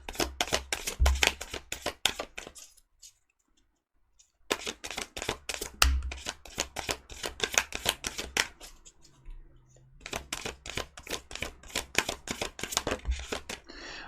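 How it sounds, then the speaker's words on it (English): Tarot cards shuffled by hand in close, crisp riffles and flicks, coming in steady bursts broken by short silent pauses, with no talking. "how the cards fall when I do the shuffling"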